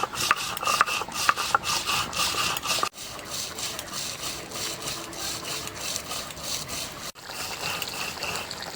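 Rough, rasping grinding of roasted peanuts into paste by hand, likely on a stone slab in a home kitchen, with repeated scraping strokes in a steady rhythm and brief pauses between bursts.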